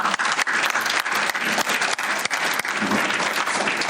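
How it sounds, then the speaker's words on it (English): Loud, sustained audience applause fills an indoor hall at a university athletics hall of fame induction ceremony, a dense continuous clapping that holds steady throughout. "round of applause"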